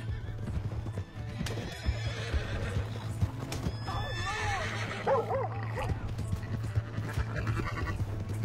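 A horse in the video game Red Dead Redemption 2 gallops with steady, rhythmic hoofbeats and lets out a shrill whinny midway, with faint voices at times.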